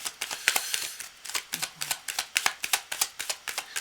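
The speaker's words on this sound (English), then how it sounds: "I'm going to shuffle it all up" Tarot cards being shuffled up close, a fast run of crisp riffling flicks and slaps in a steady rhythm, heard alone with no talk.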